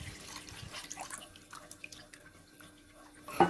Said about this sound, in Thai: เชฟก็จะเติมหางกะทิลงไปอีก 500 ml เลยครับ